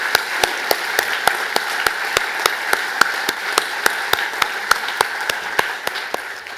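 Clapping at a St Patrick's lunch event, heard as sharp, evenly spaced claps in a steady rhythm of about four per second, close and fairly loud. The claps continue throughout with no talking.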